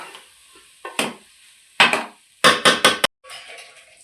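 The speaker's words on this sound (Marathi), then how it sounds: "भाजी आता शिजत टाकलेली आहे." Tender jackfruit vegetable being stirred in a pan with turmeric and spice masala, a spoon scraping in short bursts and clatters against a faint steady sizzle, close up with no talking.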